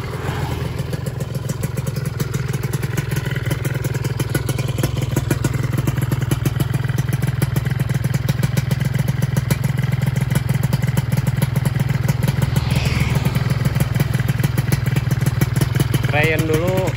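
A Yamaha FIZR 125 motorcycle engine runs steadily at close range, a smooth rapid two-stroke pulse with light mechanical clatter throughout, while a voice speaks faintly in the background.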